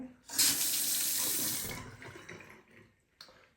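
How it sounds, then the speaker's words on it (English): A bathroom sink faucet is turned on and water rushes loudly into the basin for over a second, then trails off into faint trickles and a few soft knocks. "at this point, we can go ahead and turn the water on."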